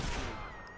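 A short, loud burst of gunfire from the video game Watch Dogs, fading quickly into a decaying rumble.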